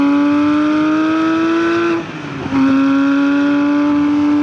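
Porsche 997 GT3 RS engine with titanium exhausts howls at high revs with strong, steady harmonics, briefly dropping off as the gear changes, then climbing again loud and close.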